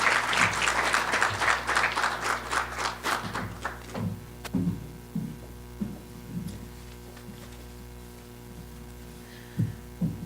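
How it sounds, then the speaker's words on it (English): An audience welcomes keynote speaker Allie at a veterans' small business conference with a burst of applause that is full at first, thins out after a few seconds and leaves scattered claps over a steady electrical hum. "let's give a nice warm applause and welcome to"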